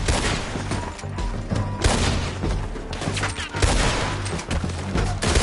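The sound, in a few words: gunfire in the video game Red Dead Redemption 2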